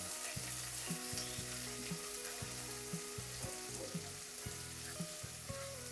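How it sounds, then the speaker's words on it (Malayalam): Chopped onion sautéing in a pan for a tomato curry, a steady close sizzle with intermittent stirring clatter running throughout. "ഈ സവാളയൊന്ന് നല്ലതുപോലെ വഴറ്റിയെടുക്കാം."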